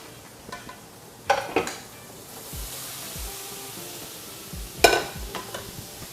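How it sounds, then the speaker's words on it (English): Salted beef and regular beef fry in a pot for a Guyanese-style cook-up, a soft steady sizzle broken by a couple of clattering stirs and utensil knocks against the pot, close with no talk. "You fry this up in there."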